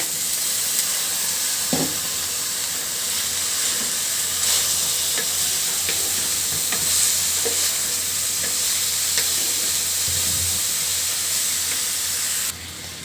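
Onions sizzle and hiss steadily in hot oil, close up, with occasional scraping stirs and no talking.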